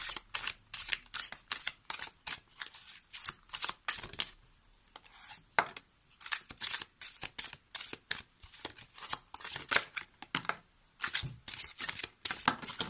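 Tarot cards shuffled by hand for a card reading, a steady run of crisp riffling bursts that pauses briefly midway before resuming, close and fairly loud with no talking.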